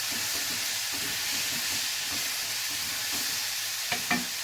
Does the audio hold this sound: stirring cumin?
yes